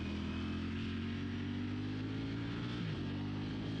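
Motorcycle engine droning steadily at speed as the rider brakes with the rear and eases off the throttle, a constant mid-pitched hum with a slight dip in pitch near the end, no talk.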